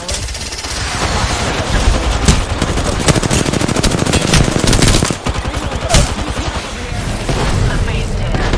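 Rapid bursts of automatic gunfire from a shooter video game, steady and loud throughout with dense repeated shots and a few heavier booms, no voices over it.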